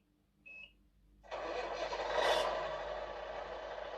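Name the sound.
GT Power sound system simulating a container truck engine starting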